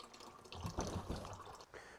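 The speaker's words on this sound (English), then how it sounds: "And there we have it, a Dometic faucet powered LifeSaver JerryCan." Water runs from a Dometic GO hydration faucet pumping out of a LifeSaver JerryCan at an overland vehicle setup, a soft continuous splashing stream with slight gurgling, close and moderately quiet.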